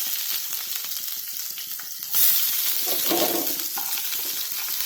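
Onions, garlic and chilies fry in a pan with a steady, dense sizzle that swells louder partway through, with a few soft stirring scrapes and no voices.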